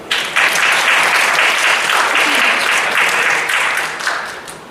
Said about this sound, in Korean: 그래서 박수 한번.